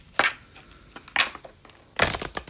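A deck of tarot cards is shuffled in three quick riffling bursts, each a crisp papery flutter close to the listener, separated by brief pauses.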